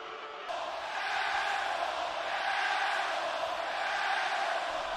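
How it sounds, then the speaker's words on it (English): Arena crowd in the WWE 2K wrestling video game, set in San Antonio, reacting to a wrestler's entrance: a sudden swell of loud, sustained crowd roar and jeering that holds steady throughout. "this crowd in San Antonio certainly is expressing their thoughts and feelings for Adam Cole right now"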